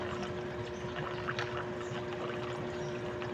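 Water overflowing from an Iwata air cooler, a steady splashing, pouring stream close by, continuous and fairly loud with a faint hum beneath.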